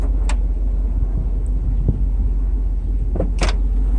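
Mercedes 500SL convertible roof cycling on its hydraulic cylinders, running a little slow after fluid refill: a steady low hydraulic pump hum throughout with a few faint clicks and thumps of the roof mechanism, no talking.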